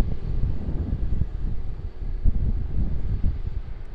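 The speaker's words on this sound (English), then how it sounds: "So, Qantas Boeing 737." A Qantas Boeing 737 at Sydney Airport gives a continuous low, rumbling engine roar with some wind buffeting, heard from a distance and steady throughout.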